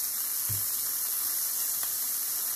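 Shrimp sizzling in a hot skillet, a steady soft hiss throughout with one brief low bump near the start.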